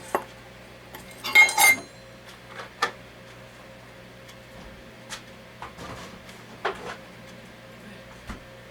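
A utensil clinks and scrapes in a bowl while peanut butter cheesecake batter is mixed, giving scattered light taps and a brief cluster of rapid clatter against a quiet background.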